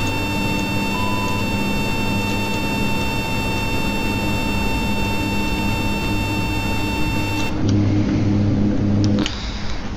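A Q400 turboprop in the Prepar3D flight simulator lowers its landing gear. A steady cockpit engine drone carries through, then a louder low rumble swells near the end before easing off.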